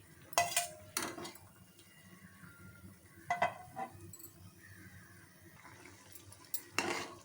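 Fried vermicelli being stirred in a pan of boiling water for semiya kesari, with a few clear scrapes and clinks of a utensil against the pan over a low bubbling background.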